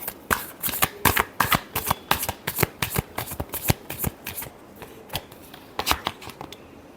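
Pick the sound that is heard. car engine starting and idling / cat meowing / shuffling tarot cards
shuffling tarot cards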